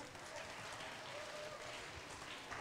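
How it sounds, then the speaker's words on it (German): Applause for a children's team at a kids' university robotics session, a steady wash of clapping filling the room from start to end with no break. "Ein Applaus für Team Virus"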